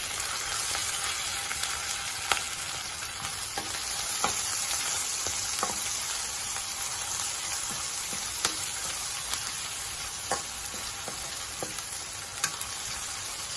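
Steady, loud sizzling of lentils and ginger paste frying in hot oil, with occasional pops and light scraping taps from a stirring spoon, no voices.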